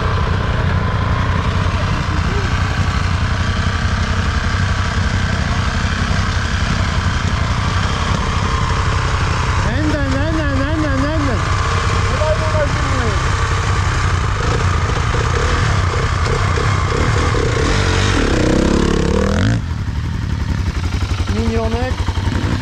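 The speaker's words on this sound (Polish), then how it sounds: "Tak się odpala Honda." A Honda quad ATV engine runs at a steady loud idle throughout, a continuous buzzing drone with brief revving wobbles midway, with a person talking over it.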